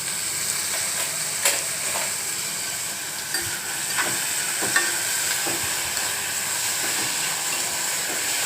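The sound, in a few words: onions sizzling as they fry in hot oil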